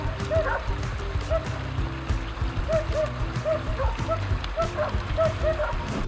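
Several dogs in a pack bark repeatedly and sharply at a large animal, loud and fairly close over a steady noisy background, with some voice audible.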